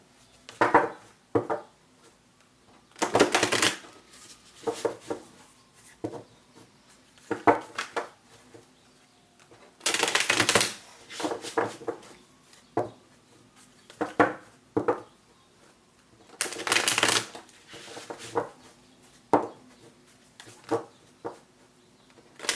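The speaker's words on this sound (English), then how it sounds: "This will be the last shuffle." Tarot cards are shuffled by hand in repeated bursts of crisp riffling and slapping. Several longer shuffles are separated by short pauses and softer taps, close up in a quiet room.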